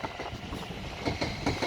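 A Class 377 electric multiple unit rolls through Clapham Junction, its wheels giving a steady, close rumble with repeated clickety-clack beats toward the end and no voices.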